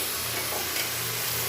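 Malabar spinach greens are stirred in a hot pan with turmeric powder and two slit green chillies, a steady sizzle and hiss with soft stirring scrapes, close and continuous.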